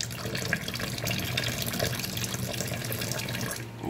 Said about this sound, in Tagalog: Lagyan pa natin ng tubig po, no?